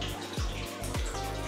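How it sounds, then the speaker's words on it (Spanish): Water runs from a shower tap in a rustic themed bathroom, a steady close hiss of spray with two short descending squeaks from the fixture. "claro que sale agua caliente,"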